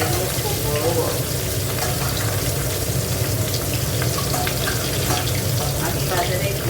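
Fish tails frying in a pan make a steady, dense sizzle that runs unbroken from start to finish, close and fairly loud, with faint clinks beneath it.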